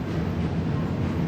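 A freight train rolls along the tracks with a dense, continuous low rumble and rattle, loud and close, with no voices.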